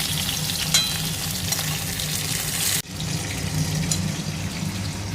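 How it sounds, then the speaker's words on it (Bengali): Pabda fish frying in a pan of hot oil gives a steady, close sizzle throughout, with a brief dip partway through and some stirring noise, no talking. "এবার মাছটা ভাজা বসিয়েছি।"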